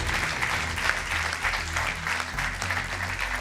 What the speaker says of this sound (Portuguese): Um aplauso para eles.